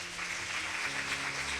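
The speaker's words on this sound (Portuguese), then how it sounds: "dá uma salva de palmas para Jesus" A church congregation applauds during a family worship service, a dense, steady wash of clapping that holds for under two seconds with a faint tonal hum beneath.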